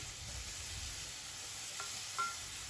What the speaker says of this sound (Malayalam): ഉപ്പ് ചേർത്തതിന് ശേഷം നല്ലതുപോലെ വഴറ്റിയെടുക്കണം